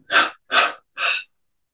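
Three deep, breathy exhalations follow one another at an even pace in a breathing exercise, each a close, loud rush of air with clean silence between them.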